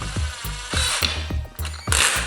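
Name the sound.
power drill driving a stepper motor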